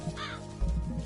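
A single crow caws twice in the Good Kid, w.I.L.d Town game, a short hoarse call standing alone over a low background hum.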